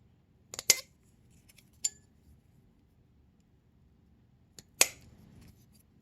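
Scissors snipping paper in two short bursts of crisp cuts, a small craft project cutting out a half-moon shape; close and clear against a quiet room, with a faint click between the bursts.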